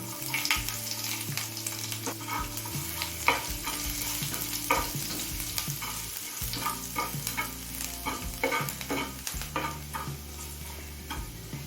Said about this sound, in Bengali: রসুনটা একদম লো ফ্লেমে মিনিট দুই ভেজে নিলাম